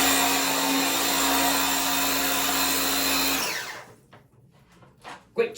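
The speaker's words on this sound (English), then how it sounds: "you can use your power washer to wash your tub" A DeWalt 20V Max cordless pressure washer sprays soap onto a tub, a loud, steady motor whine with hissing spray. It runs for several seconds, then cuts off, leaving quiet handling clunks.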